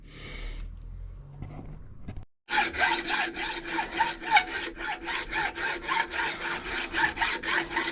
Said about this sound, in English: I'm just going to cut through till I can hear the tone change.